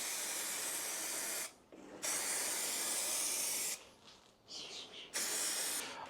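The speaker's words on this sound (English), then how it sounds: "I'll give it a little bit of spray just across both of these edges" Spray adhesive hissing from an aerosol can in steady bursts along the edges of a wall panel in a camper van conversion, close and continuous with a few short breaks.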